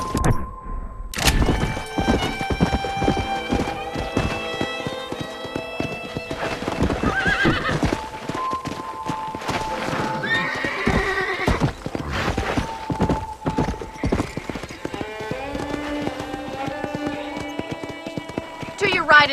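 A horse in the Red Dead Redemption video game trots with rhythmic hoof clip-clops on a ranch and lets out a whinnying neigh, with a voice speaking at times over the game sounds.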